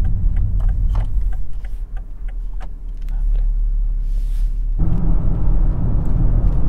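A BMW X4M F98 Competition drives along with a steady low engine and road drone heard from inside the cabin, swelling louder partway through as it accelerates, with a voice speaking over it.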